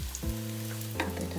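Corn fritter batter spooned into a hot non-stick pan sizzles and fries steadily, a close, continuous crackle and hiss heard alone with no talking.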